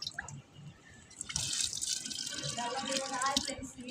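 Jaggery water drips and trickles in a steady patter, growing into a fuller pour of liquid partway through, close and fairly loud.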